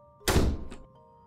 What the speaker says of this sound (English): Then she slammed the door shut.